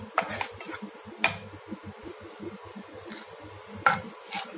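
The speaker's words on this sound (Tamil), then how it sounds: "கோதுமை ரவைய நல்லா வறுக்கணுங்க." Wheat rava roasting in ghee is stirred around a pan, giving soft scraping rubs with a few sharper clicks of the spoon against the metal, fairly quiet and close with no talking.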